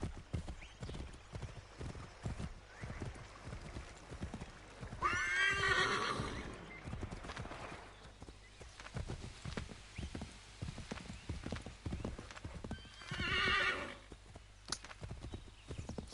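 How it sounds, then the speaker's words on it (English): A horse in the video game Assassin's Creed 3, with steady clip-clop hoofbeats throughout and two loud neighs, one around five seconds in and another near the end. "This horse is pissing me off, man."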